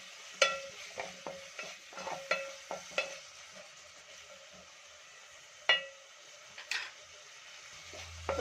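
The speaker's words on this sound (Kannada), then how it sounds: "ನೋಡಿ, ಚೆನ್ನಾಗಿ ಫ್ರೈ ಆಗಲಿ." Tomatoes with turmeric fry for palak curry, a soft steady sizzle with repeated sharp clicks and scrapes of a spoon stirring the pan, close and fairly quiet.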